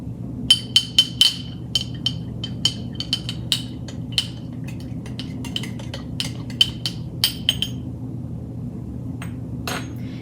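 A metal spoon clinks repeatedly against a drinking glass while stirring a teaspoon of salt into warm water, sharp bright taps in an uneven rhythm over a steady low hum.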